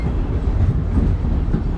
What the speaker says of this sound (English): we waited probably less than 5 minutes for the next train to arrive